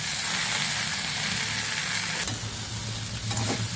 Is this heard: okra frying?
yes